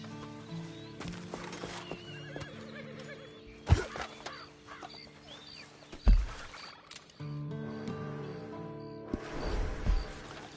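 Horse in Red Dead Online neighs and whinnies with clopping hooves amid game music and effects, including a couple of sharp louder thumps, fairly close and prominent.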